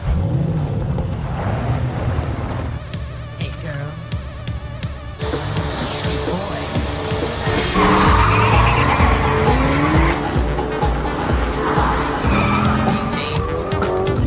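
Race cars skid and accelerate hard during a street race, tires squealing over roaring engines in a loud, continuous burst with a brief quieter dip before the noise swells again.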